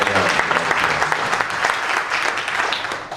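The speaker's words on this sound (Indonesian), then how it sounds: "Kita berikan tepuk tangan bagi Yesus kita yang keren." A church congregation applauding during a sermon, a dense, loud wash of many hands clapping steadily for a few seconds before easing slightly at the end.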